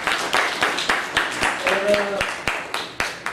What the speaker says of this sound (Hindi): तालियों से इस्तकबाल कीजिए